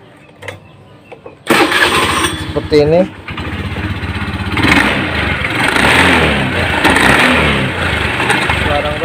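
A Honda Scoopy fuel-injected scooter starts and idles roughly with a rattling, crackling mechanical noise from a faulty CVT, while someone speaks briefly over it.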